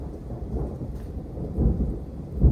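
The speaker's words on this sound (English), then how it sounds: "That's a pretty good thunder." Thunder rumbles during a rainstorm, low and rolling beneath a steady wash of rain, swelling in two heavier booms near the end with no voices.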